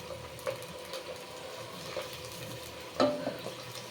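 Onions frying in a pan for country chicken kurma give a low steady sizzle with occasional stirring scrapes and a louder clink near the end, close and moderately quiet, no speech.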